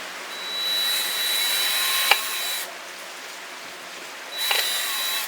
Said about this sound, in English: I'm drilling my holes in my cap.